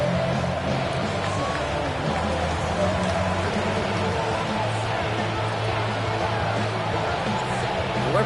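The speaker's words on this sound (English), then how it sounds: "We're playing under the lights and some heavy rain here tonight." Heavy rain falls on a night football game in an EA Sports video game, a steady, loud hiss covering everything throughout, with a faint crowd murmur beneath.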